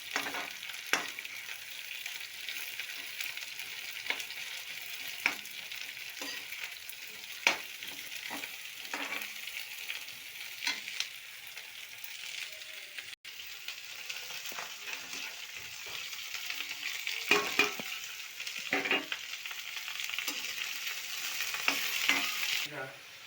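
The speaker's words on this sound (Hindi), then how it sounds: "अब इसको फ्राई कर लेती हूँ तेल में" Food fries in hot oil in a pan, giving a continuous soft sizzle and crackle that swells slightly toward the end, with occasional stirring clinks, fairly quiet and without talk.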